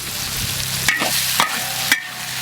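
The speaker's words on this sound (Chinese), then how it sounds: "要炒一下啊，炒热一点，炒入味一点。" Spicy beef tripe stir-fried in a pan, with a steady loud sizzle and three sharp scrapes of the spatula against the pan at roughly half-second intervals, with no talk.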